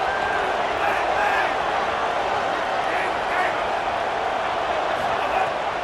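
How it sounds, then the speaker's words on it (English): A stadium crowd at a Texas Tech football game in a video game gives a continuous, dense roar with scattered cheers and whistles, steady and loud throughout, with no clear voices on top. "Guns up, and so is the noise. The crowd electric, trying to help Tech on this 3rd down."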